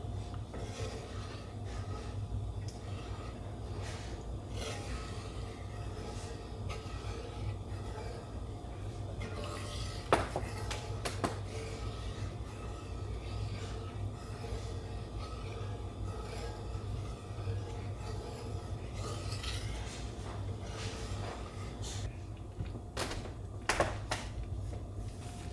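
Gravy is stirred in a pan with soft, continuous scraping over a low background hum, and a few sharper clicks and knocks come through now and then.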